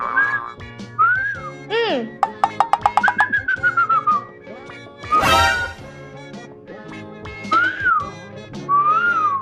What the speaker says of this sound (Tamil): விசில் அடிச்சது போதும்